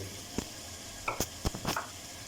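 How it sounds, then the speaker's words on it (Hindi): Masala frying in a pan as peas and potatoes are added for aloo matar: a soft background sizzle broken by a few quick clinks and thumps, fairly faint, no talking. "मसाला अच्छी तरह भुनना है दोस्तों। मटर जाएंगे। आलू जाएंगे।"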